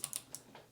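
Keycaps pressed back onto the hot-swap switches of a Keychron C2 keyboard give three or four small, crisp plastic clicks, faint and close, spaced unevenly over less than a second.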